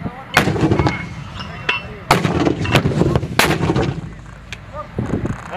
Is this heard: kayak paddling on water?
no